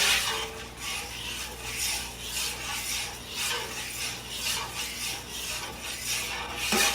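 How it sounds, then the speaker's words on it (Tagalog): A utensil stirring and mixing a garlic barbecue marinade in a bowl, with soft rhythmic rubbing and scraping strokes repeating steadily at close range. "Ayan, mix lang natin."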